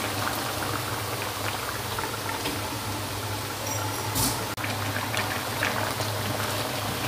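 Water poured into a pot of boiling taro, with steady bubbling and a brief splashing pour partway through, close and continuous and with no talking.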